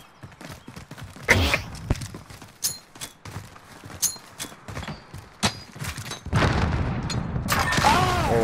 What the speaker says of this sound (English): Here comes the predator missile.